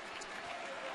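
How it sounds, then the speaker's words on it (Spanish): Arena crowd at a Spanish basketball semi-final between Palencia and Manresa clapping after a missed free throw, a dense, steady wash of applause with a commentator talking over it. "Aplaude el pabellón."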